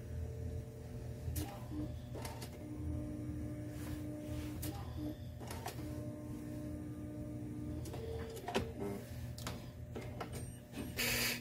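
Tube numbering machine printing on tubing, a faint steady mechanical hum with low motor drone and intermittent soft clicks and clacks throughout, quiet and close.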